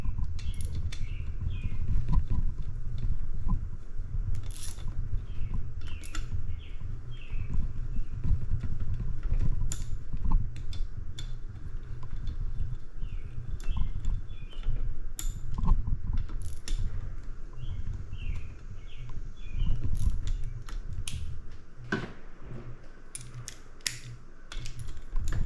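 A ratchet tightens head bolts in a crisscross pattern on a Yamaha JN6 golf cart engine during short block assembly, with continuous close clicking and metallic turning and sharp ticks scattered throughout, no voices.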